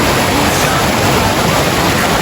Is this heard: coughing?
no